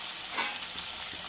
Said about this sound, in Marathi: गॅस फुल करून आहे ना असं थोडंसं परतून घेते मी